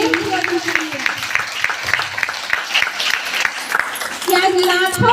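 An audience applauds, a dense, sustained patter of clapping that runs throughout at fairly close range, with a voice speaking over it.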